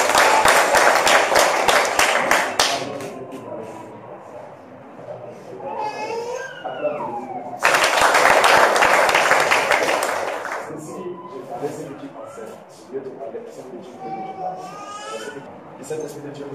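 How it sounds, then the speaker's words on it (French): Clapping and cheering from a church congregation acclaiming Jesus, two loud swells of applause that fade between them, with voices calling out and singing over the noise. "Acclame pour Jésus."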